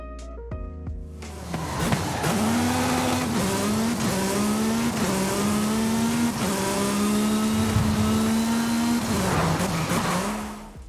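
A car engine in Forza Horizon 5 revs and holds a steady, buzzing drone with tire squeal, rising and dipping in pitch over several gear changes, loud and close throughout.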